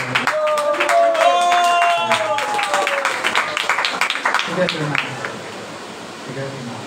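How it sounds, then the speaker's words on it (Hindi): An audience at a Sri Caitanya Bhagwat devotional gathering in Jaipur claps loudly for several seconds, mixed with voices, then the clapping thins and fades as talk continues. "उनके लिए जोरदार ताली बजाना"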